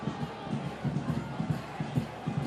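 Home crowd at a San Antonio FC soccer match at Toyota Field: a busy, distant murmur of many voices with rhythmic rising swells, like chanting or clapping, steady across the moment.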